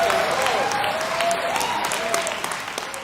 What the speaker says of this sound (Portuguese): Eu aplaudo vocês.